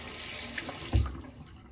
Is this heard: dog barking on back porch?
no